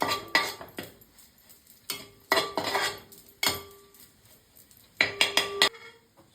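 Curry being mixed in a pot, with clusters of sharp metallic clanks and scrapes as a spoon knocks against the metal sides. The bursts are irregular and separated by short quiet gaps, with a faint sizzle underneath and no voices.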